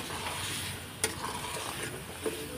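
Ground spice paste frying and being stirred in a pan for a potato and pointed gourd curry, a steady close sizzle with occasional scraping clicks of the spoon against the pan.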